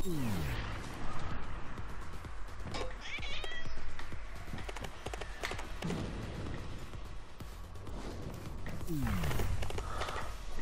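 Cat in the Trials Fusion video game, meowing and yowling cries recurring over a busy, loud game soundscape with rumbling and swooping effects.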